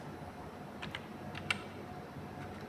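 Computer keyboard keys pressed in a few quick, light taps during Tally ERP 9 accounting entry, including a sharper single keystroke, over a steady faint room hum.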